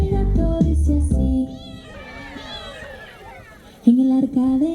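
A voice imitates a cat meowing in a sung, melodic line, with a few drawn-out mewing calls between passages of singing.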